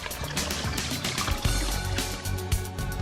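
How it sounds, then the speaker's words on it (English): Used solvent poured manually into a 17.5-gallon Solvent Saver recycler, a steady splashing pour running continuously and fairly loud throughout, with no voices. "Load the recycler with the used solvent using a transfer pump option or pour manually."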